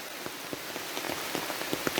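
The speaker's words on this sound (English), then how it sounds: "Hope the rain slows down a little bit, but if it don't, it don't." Steady rain falls on a hiking trail, a dense patter of drops with scattered sharper taps close by, continuous and fairly loud with no voices.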